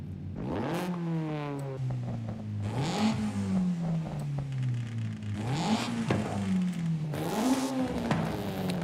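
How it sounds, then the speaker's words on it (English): A Honda on its stock exhaust in Forza Horizon 5 revs repeatedly, its raspy engine note climbing and falling through several gear-like sweeps, loud and close with no talking. "I like the raspiness of the stock exhaust. It sounds like an authentic Honda."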